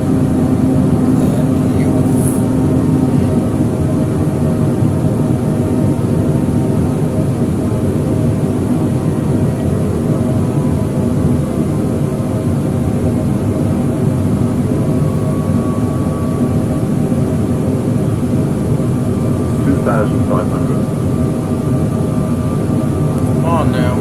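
Airliner engines drone steadily through a Microsoft Flight Simulator 2020 landing, a continuous loud rumble and hum that persists for the whole stretch with a faint tonal whine riding on top.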